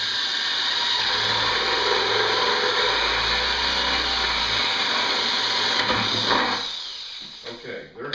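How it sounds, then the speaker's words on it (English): A power drill whirs steadily for several seconds drilling soft plastic, its motor note shifting slightly as it cuts, then spins down and stops. "So I'm just going to go ahead and drill this."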